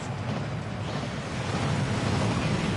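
Waterfall in Hogwarts Legacy, a steady, loud rushing roar of falling water that fills the whole moment without pause, with no voices over it.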